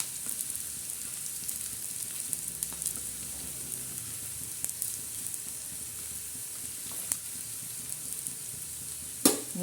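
Whole garam masala spices and coriander seeds roast in a pan with a continuous close sizzle and occasional light stirring taps, ending in a sharper clatter; no talk.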